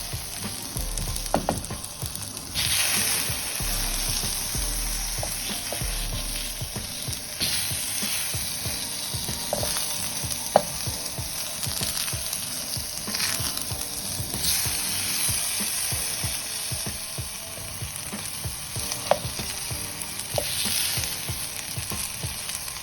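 Tomatoes grill in a pan, giving a continuous close sizzle and crackle of frying with occasional clinks and stirring noises, and no one talks.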